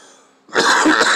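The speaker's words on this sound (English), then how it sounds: "You'll have to excuse the coughing." A single harsh cough from someone with a cold bursts out after a brief quiet stretch, loud and close, with a rough, breathy texture lasting about half a second.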